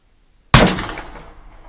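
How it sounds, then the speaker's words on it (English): A single 12 gauge shotgun blast fired at a deer during a youth deer hunt, a sharp loud crack from near silence followed by a rolling decay that fades over about a second. "let the 12 gauge do its job"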